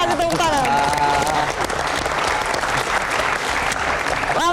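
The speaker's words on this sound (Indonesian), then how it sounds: "Kita kasih tepuk tangan." Sustained, dense applause from a studio audience on an Indonesian talk show, loud and continuous throughout, with a voice heard briefly at the start.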